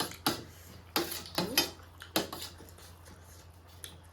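Spoon clinks against dishes as a couple eats a mukbang meal together: about half a dozen sharp, close metallic taps come at irregular intervals over quiet room tone, with no talking.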